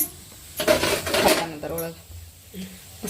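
A metal cooking pan clatters and scrapes in a home kitchen as oil is added for a vegetable dish, a few close rattling knocks and clinks of metal on metal, with a person talking alongside.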